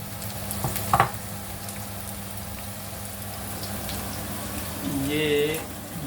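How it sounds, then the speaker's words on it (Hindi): Onions sizzle in a frying pan for prawn scampi, a steady close hiss with a clink near the start and a brief whistling tone later, under light background noise. "प्याज डाल दिए गए हैं।"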